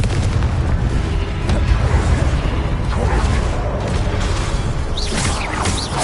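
Explosive spell blasts from the Confringo curse in the Hogwarts Legacy video game, continuous loud booms and bursts layered over dense battle noise with no let-up.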